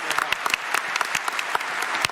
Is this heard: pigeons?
no